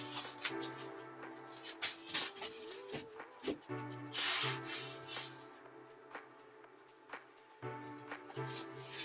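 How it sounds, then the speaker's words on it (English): Sandpaper rubbing back and forth over pine wood in repeated strokes of scraping friction, close up, with background music playing steadily underneath. "I'm sanding down the pine wood, and that's what it says to do before you add the stain"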